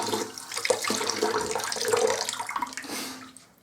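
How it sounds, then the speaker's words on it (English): Water runs steadily from a bathroom tap into a sink while a face is wetted before a wet shave, a continuous splashing hiss with small knocks and bumps, fairly close, easing off at the end. "So I wet my face"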